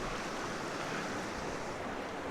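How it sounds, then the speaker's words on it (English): A creek runs through a small mountain town in Silverton, a continuous broadband rush of flowing water, steady and fairly close, with no voices. "You can hear that water running."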